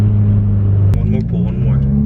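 A 2015-or-later Subaru WRX fitted with a Process West charge pipe pulls hard, a loud, low engine drone that shifts pitch midway, heard from inside with voices talking over it.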